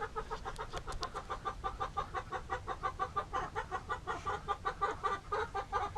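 A female duck snorts in a fast, steady run of short nasal bursts that repeat throughout, fairly close but quiet, with no talking.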